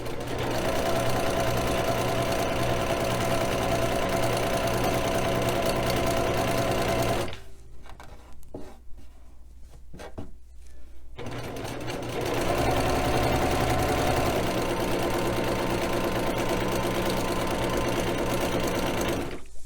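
A sewing machine stitches a quarter inch seam on a Valentine throw pillow, running in a fast steady whir, pausing briefly in the middle, then starting up again loud and close.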